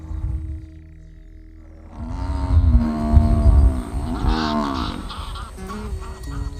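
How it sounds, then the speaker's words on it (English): Domestic water buffalo calling to its calf at a lake reserve, a deep drawn-out bellow that swells to a loud honking, wavering call for a few seconds before fading. "This is the sound of the domestic water buffalo."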